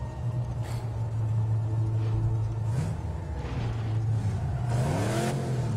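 A car engine in the post-apocalyptic driving game Mad Max hums steadily at close range, rising into a revving surge near the end under a layer of background game noise.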